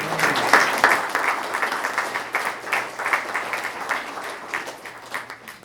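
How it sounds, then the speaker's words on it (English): A crowd at the grand reopening of the Kenneth C. Aitken Senior and Community Center gives a round of applause, strongest at the start and gradually thinning out as individual claps fade. "I want another big round of applause"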